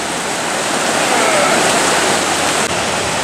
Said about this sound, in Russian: Брод реки Ауэрштейн.